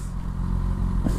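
A stock sportbike with its factory exhaust idles at a low, steady rumble, fairly quiet and even for a little over a second with no voices.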